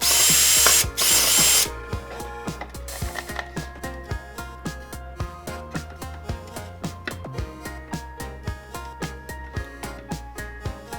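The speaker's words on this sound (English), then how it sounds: "I'm going to drill in through the side so that I can put the wires through there" A power drill bores through the side of a cat toy in a rapid run of close, rhythmic grinding bursts that repeat evenly after a brief louder whir at the start.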